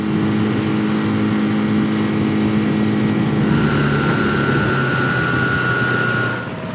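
A small rigid inflatable boat driven by a 15 hp outboard motor planes across the water with four adult men aboard, its engine droning steadily and close the whole time, easing slightly at the very end.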